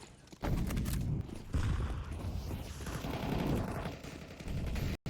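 Rapid, dense gunfire fills a Counter-Strike 2 esports match, a continuous burst of shots spraying at a wall with mechanical clatter, loud and close, ending abruptly.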